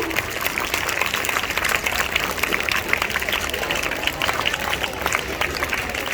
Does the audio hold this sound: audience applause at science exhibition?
yes